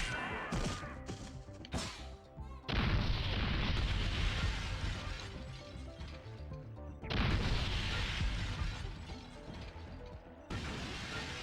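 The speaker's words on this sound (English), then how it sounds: "So there was a firework near the end of level portal." Firework explosions in the Spyro: Enter the Dragonfly video game: two long, loud, crackling blasts of crashing noise, each ringing on for several seconds over the game's background sound.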